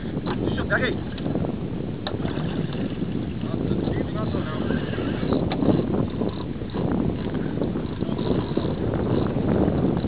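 Steady wind buffets the microphone outdoors on the water from a small boat, with boat noise and people talking underneath throughout.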